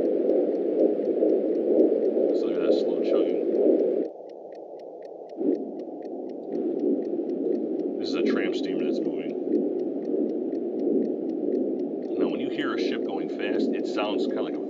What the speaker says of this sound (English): It's like a low hum. But here you can hear chugging, so you know it's going slow.